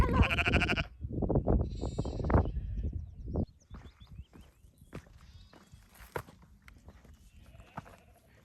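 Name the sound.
sheep bleating on a valley path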